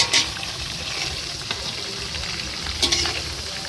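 Potatoes fry with whole vegetables for a Gota Sashthi meal, sizzling loudly and continuously close by, with occasional clinks of a utensil against the pan.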